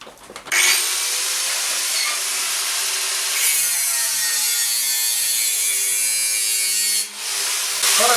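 An angle grinder cuts into metal while a bracer is being made, giving a loud, sustained high-pitched screech that starts abruptly and runs nearly unbroken, dipping briefly once before picking back up.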